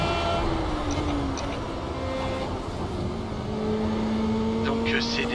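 A race car engine holds full throttle in sixth gear in Project Cars, a sustained, steady drone with a slowly shifting pitch and a faint background hiss.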